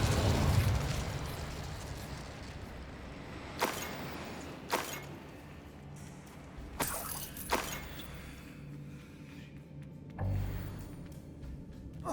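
Fire spells cast in Hogwarts Legacy, heard as several short, sharp whooshing bursts a few seconds apart over a quiet, rumbling game backdrop.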